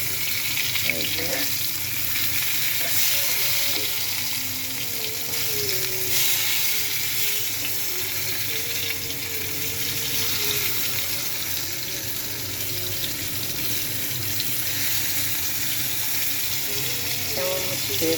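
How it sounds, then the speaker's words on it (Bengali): Ash gourd fries in a pan with a continuous hissing sizzle, steady and close, holding at an even level throughout. "চাল কুমড়াটা ভাজি করছি"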